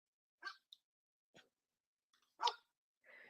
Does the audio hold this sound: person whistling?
no